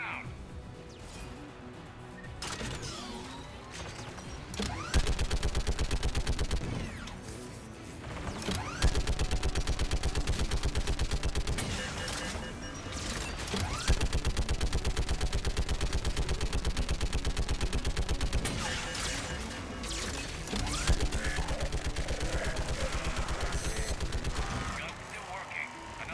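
Rapid turret gunfire in the shooter game Mass Effect 3 hammers out in sustained bursts, loud and dense, with crashes and mechanical clatter mixed in and voices talking over the fire.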